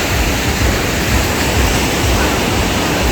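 Waves at Benaulim beach in Goa make a close, constant wash of surf, a dense, even roar without breaks or voices.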